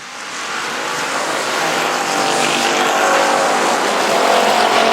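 Race cars lap South Texas Speedway, engines roaring loud and continuous as the pack passes close, a dense rising drone with no talk.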